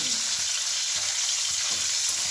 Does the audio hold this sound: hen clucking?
no